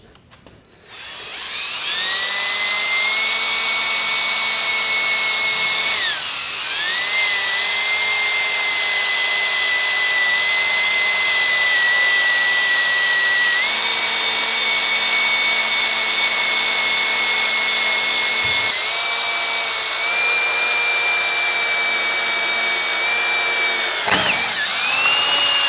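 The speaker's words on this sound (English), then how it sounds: "Okay, another hole, drill bit's fine." A power drill whines at a high, steady pitch for a long stretch, dipping briefly a few times as it bites into metal while fitting an ITC Quick Attach upgrade to a tractor, with no talking.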